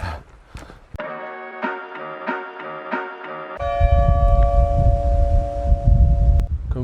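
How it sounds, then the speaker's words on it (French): A large chapel bell rings out at 1 pm, its strokes repeating in a steady rhythm with long, humming tones, then a deeper sustained tone over rumbling outdoor noise. "On est devant la chapelle avec une grosse cloche"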